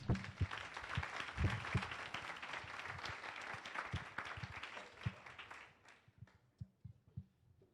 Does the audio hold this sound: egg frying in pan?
no